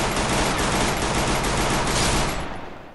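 A dense, continuous roar of gunfire from a Free Fire battle, loud and steady throughout before tapering off at the end, with no voices over it.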